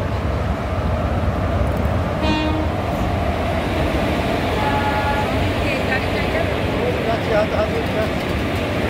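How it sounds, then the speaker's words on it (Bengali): A train rumbles in steadily with a short horn blast partway through, amid a busy crowd and voices nearby. "তো দেখো একদম ঠিক টাইমে আমাদের ট্রেন ঢুকে গেছে"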